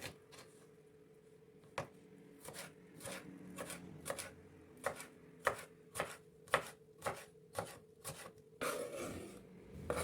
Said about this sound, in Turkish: Bu biberimizi de ince ince doğruyoruz.